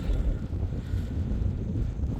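Strong wind on a Carpathian mountain ridge roars and buffets the microphone continuously, a low, rumbling gusty rush with no other sounds.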